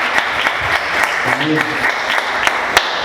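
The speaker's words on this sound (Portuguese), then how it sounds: "Quantos podem aplaudir Jesus?" Church congregation clapping in praise during an evening service, a dense steady patter with sharper claps standing out, while a single voice briefly speaks over it.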